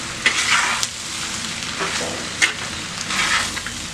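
Shark fish podimas with grated coconut sautéing in a pan: a steady close sizzle and fry with scraping stirs and a few sharp utensil knocks, no talking.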